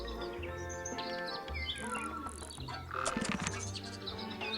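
Three fancy caged birds in the Tangle Tower game chirp and tweet in bright, overlapping whistles and trills over a soft musical backdrop, steady throughout with a busier flurry near the end.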